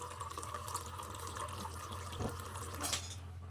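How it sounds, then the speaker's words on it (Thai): Water runs steadily out of the tank of a 75 GPD RO water filter with a freshly changed cartridge, a continuous close hiss of flow with a couple of faint clunks near the end. "อันนี้ทิ้งน้ำมาสักพักหนึ่งนะครับ ประมาณสิบนาทีแล้ว"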